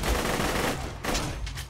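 A dense burst of rapid gunfire rattles loudly, followed by a few separate sharp shots, in the video game Borderlands 2.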